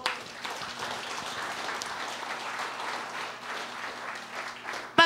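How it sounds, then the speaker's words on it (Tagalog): Congregation applause during a Sunday worship service, a moderate continuous patter of many hands clapping in a room with a low steady hum, ending with a brief louder burst. "Ba't ganyan lang ang palakpak nyo?"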